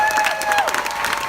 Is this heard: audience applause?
yes